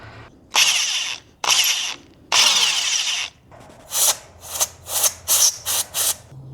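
Power drill with a new bit boring into metal while working on a 1967 Plymouth Fury VIP, heard as three long loud runs followed by a quick series of short bursts, no talking.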